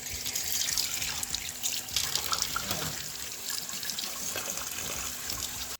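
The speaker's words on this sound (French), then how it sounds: "Et là je vais rincer les oignons à l'eau froide." Cold tap water runs steadily into a sink as chopped onions are rinsed, a continuous close hiss and splash with faint shifting trickles as the food is moved under the stream.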